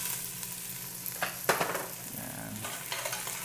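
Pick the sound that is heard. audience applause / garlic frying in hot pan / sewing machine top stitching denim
garlic frying in hot pan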